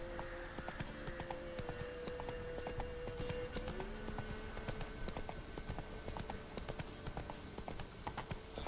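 Roach, the horse in The Witcher 3: Wild Hunt, gallops with a steady, rapid clip-clop of hooves that continues the whole time over a constant game background ambience.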